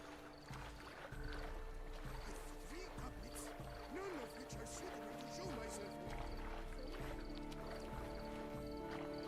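Geralt swims through water in The Witcher 3: Wild Hunt's Blood and Wine, with steady splashing strokes and sloshing carried over a constant game ambience while voices talk throughout.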